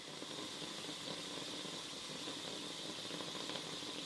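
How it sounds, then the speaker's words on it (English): Steam hisses steadily from a small hole in a steam box used for bending oak boat seat supports, a constant broadband rush with a faint engine-like rumble and no break. "I can still see steam coming out"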